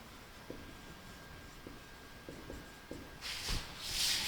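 Handwriting with a pen or marker, a few soft scratchy strokes and taps at close range in a quiet room, followed by a louder rustle at the end.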